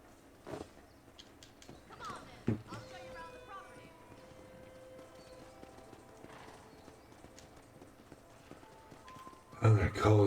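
Horse hooves clip-clop at a walk in the video game Red Dead Redemption, fairly faint under a low background, with a few louder thumps and a burst of noise at the end.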